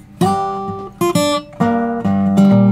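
A delta blues guitar riff picked with the thumb, a few clustered plucked attacks with ringing notes and low bass strikes, close and moderately loud, no one talking.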